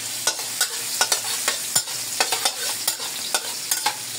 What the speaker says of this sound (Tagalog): Makagisa tayo ng bawang.